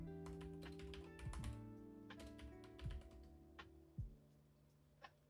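Keys clatter on a computer keyboard as a command is typed out, a steady run of light taps and a few sharper presses over a continuous hum, close and fairly faint.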